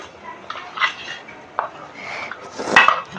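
Steel idli plates being set into cooking vessels, a few clanks and scrapes of metal on metal with a sharp ring near the end, close and fairly quiet between hits.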